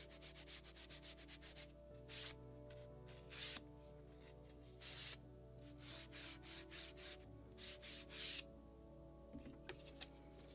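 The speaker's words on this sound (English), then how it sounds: "And polishing with the Scotch Brite." Scotch-Brite pad rubbed over model ship wood, a close, rhythmic series of short scrubbing strokes in bursts, with brief pauses between passes and no talking.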